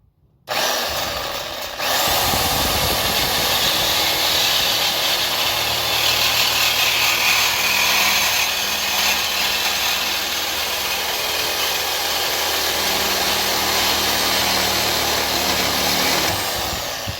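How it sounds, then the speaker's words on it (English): A power tool cuts through the exhaust pipe of a 1975 MG Midget close to the flange, a loud, steady grinding-cutting noise that starts after a brief pause and runs continuously, near and alone. "we're just going to go and be very careful and cut the pipe as close as I can to the flange"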